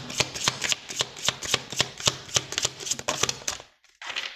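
Oracle cards from an inspirational deck being shuffled: a rapid run of crisp, close riffling snaps and slaps, loud and steady for several seconds, then a brief pause before a final short burst.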